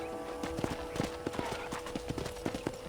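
Horse hooves clip-clop at a steady riding gait in the Red Dead Redemption video game, close and rhythmic over a faint game ambience.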